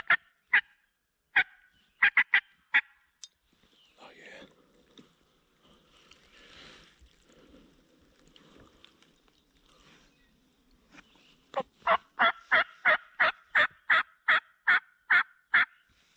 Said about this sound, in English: There might be a gobbler coming up out of this valley.